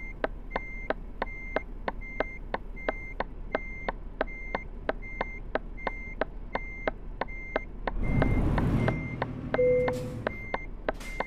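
DAF XG+ truck reversing up to a loading ramp in Euro Truck Simulator 2, its backup alarm beeping in a steady, regular rhythm throughout, joined near the end by a short rumbling burst of engine and air brake.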